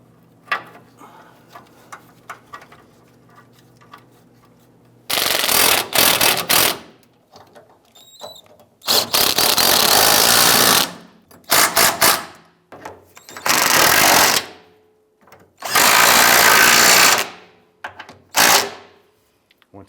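Repeated bursts of ratcheting as bolts are tightened on a 1995-2001 Ford Explorer during fuel pressure sensor work, several loud close clicking runs separated by short pauses after a quiet opening stretch.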